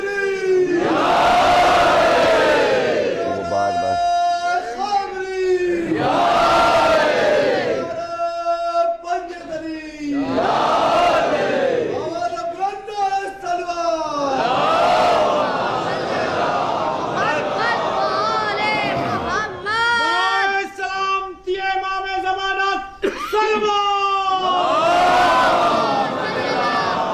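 A large crowd in Lucknow loudly chants the Naara-e-Haidari slogan in repeated call-and-response waves, voices rising and falling in rhythmic swells over the whole stretch.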